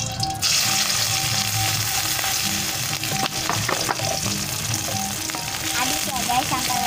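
Garlic, shallots and chili dropped into hot oil, giving a dense, close sizzle with stirring clatter and a few brief clinks.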